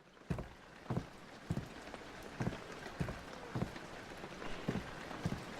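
Rain falls steadily in the video game Amnesia: Abduction, a soft hiss under regular heavy thuds that repeat about every half second, like footsteps.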